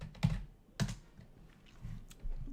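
Typing on a computer keyboard during a stock trading session, a few scattered, soft key presses and clacks with pauses between them, close and fairly quiet.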